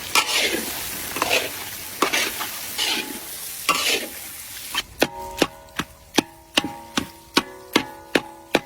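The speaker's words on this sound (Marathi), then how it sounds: "हळद टाकून घेऊ, काश्मीरी लाल मिर्च पावडर परतून घेऊ" Turmeric and Kashmiri red chili powder being sautéed in a pan, soft sizzling broken by scraping strokes, then a run of sharp, evenly spaced metallic taps of a spoon against the pan, close and clear.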